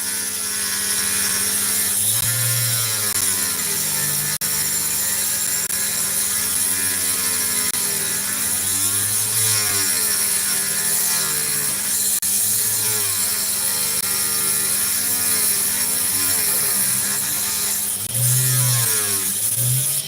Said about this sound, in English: I am going to continue cutting along this axis